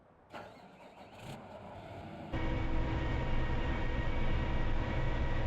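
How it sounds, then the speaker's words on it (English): A Krone Big X 1100 forage harvester engine in Farming Simulator 2015 cranks briefly, then suddenly catches and settles into a loud, steady, broad-band idle roar with no one talking. "we'll jump in our Krone Big X, fire it up and let you hear it, because man, it sounds good"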